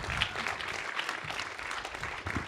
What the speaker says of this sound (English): This is applause for the book.